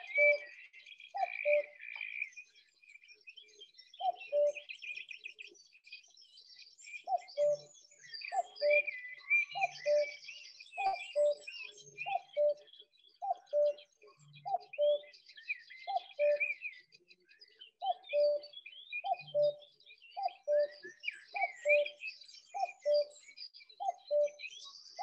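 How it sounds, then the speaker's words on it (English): Bright, varied birdsong fills a wetland on the Somerset Levels, with a repeated soft two-note cuckoo call pulsing steadily underneath, many birds singing at once. "I'm absolutely mad for birdsong. I love the sound of places like this."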